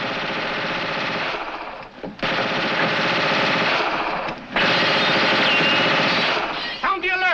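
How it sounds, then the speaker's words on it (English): Sustained bursts of rapid automatic gunfire, loud and close, with brief pauses between long volleys and a faint voice at the end. "Sergeant, investigate that gunfire."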